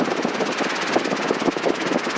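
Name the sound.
Robinson R22 helicopter flying with engine running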